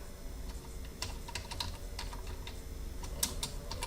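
Rapid, faint clicking of a computer keyboard while a formula is typed, quick uneven keystrokes over steady low background hum.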